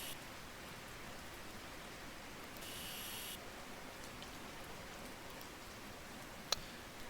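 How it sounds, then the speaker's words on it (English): Steady rain falls outside a garage, a soft even hiss with a brief louder burst partway through and a single sharp tick near the end. "Raining now."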